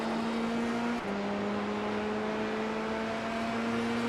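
An F3 race car engine at Sebring in the iRacing simulator holds a steady, close droning whine, with a brief dip and pitch shift partway through before it settles back into a constant tone.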